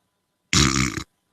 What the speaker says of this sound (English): we need to talk about the whole burping in the microphone